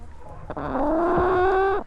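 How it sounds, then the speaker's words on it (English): A pet chicken on a family farm gives a single close, drawn-out squawking cluck that rises in pitch and holds for about a second, loud and alone, with no talking. "Now, why is Donut the Evans' favorite chicken"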